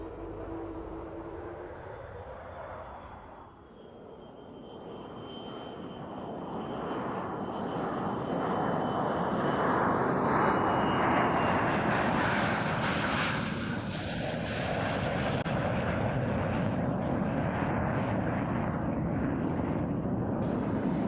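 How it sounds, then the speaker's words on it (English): A Lockheed U-2S jet engine roars at an air show flying display, a broad sustained rumble that builds as the aircraft approaches and passes, loud and steady for about twenty seconds with no voices. "this is the first time we've seen a U2S in a British flying display in public since 1993"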